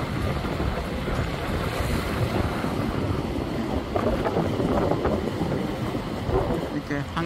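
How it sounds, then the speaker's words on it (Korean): Waves wash and slosh past a moving boat on open water, a steady rushing churn with heavy wind buffeting the microphone and engine rumble beneath, loud and close throughout. "물결이 파도가 이렇게"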